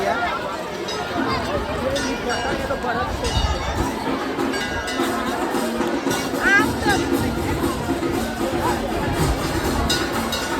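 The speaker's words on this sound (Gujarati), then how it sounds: "બહુ ભીડ છે" At the Ramapir temple in Lalpur, a busy crowd of devotees keeps up a continuous hubbub, with scattered metallic clinks and bursts of nearby chatter over the general din.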